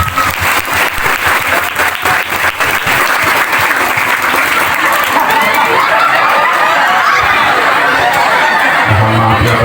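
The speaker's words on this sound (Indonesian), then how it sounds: "Tepuk tangan buat." Sustained applause from an audience at a religious lecture for a Maulid celebration at an Islamic boarding school, loud and continuous throughout, with some crowd chatter and light laughter mixed in.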